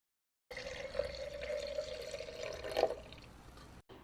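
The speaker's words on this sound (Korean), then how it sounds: "끓인 물에 홍차티백을 넣어 20분에서 30분 정도 우린 후 소독한 유리병에 부어주세요" Brewed black tea poured from a short height into a sterilized glass jar, a thin steady trickle of liquid with a faint ringing tone and a small splash near the end, quiet and close.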